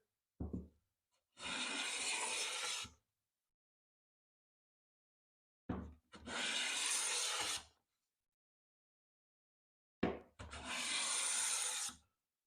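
A Veritas smoothing plane shaves wood in three separate strokes, each a steady rasping hiss of about one and a half seconds, opened by a short knock as the plane is set on the board and split by silent pauses.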